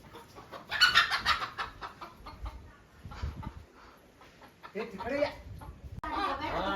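A loose village hen in Konkan clucks in quick, scattered bursts nearby, with brief pauses between the calls.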